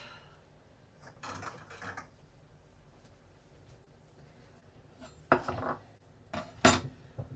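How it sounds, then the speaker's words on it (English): A knife chops an onion on a cutting board in a few separate bursts of quick, clattering strokes with quiet pauses between them, and no one talks. "I'm going to chop this onion real quick"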